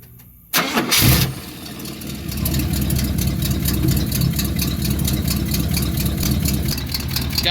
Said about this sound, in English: Now let's give this a test and see what exhaust leaks we got.